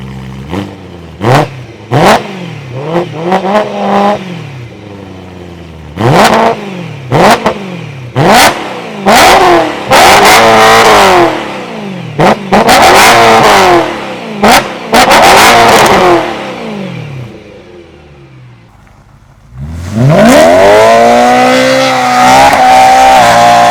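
A BMW engine, E90 M3 or E92 with a stage 2 M57 diesel, revs repeatedly in sharp bursts that rise and fall, loud and close, then holds a sustained high rev near the end.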